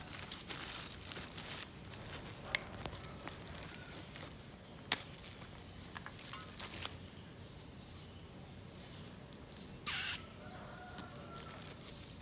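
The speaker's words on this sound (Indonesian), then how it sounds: "kita mau mengisi korek gas" A butane gas lighter being refilled gives soft crinkles and clicks over low background rustle, then one brief, sharp hiss of pressurized gas near the end.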